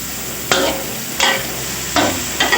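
Steady frying sizzle of garlic in a pan, with a few louder scraping stirs breaking through at intervals; close and continuous, no voices.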